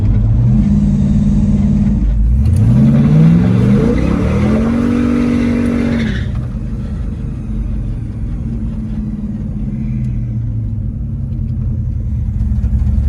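A 1967 Pontiac GTO's V8 rumbles loud and close, then revs hard while accelerating in first gear, its pitch climbing over several seconds before easing back to a steady cruising drone.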